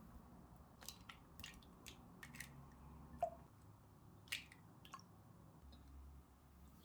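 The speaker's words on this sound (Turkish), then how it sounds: "karıştırma kabına 5 tane yumurta kırıyorum" Five eggs being cracked into a mixing bowl for su böreği dough, heard as a scattered series of short, quiet taps and cracks with soft wet spills between them in an otherwise quiet kitchen.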